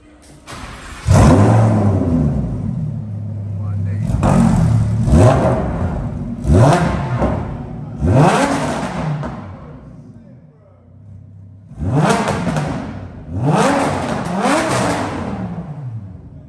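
A straight-piped Lamborghini Huracan with a 5.2-litre V10 fires up and then barks through a series of sharp, loud revs that rise and fall. The blips come in bursts with short idling gaps between them, and the car is close by.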